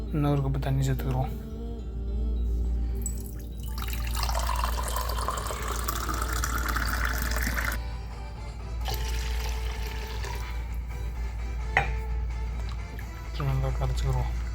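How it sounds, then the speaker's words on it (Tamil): Water is poured into ragi (finger millet) flour and stirred to loosen it into a thin batter, with a rising, filling tone of liquid and steady stirring under continuous talk. "நல்லா கலக்கிட்டு இன்னொரு கப்பு தண்ணி சேர்த்துக்கிறோம்."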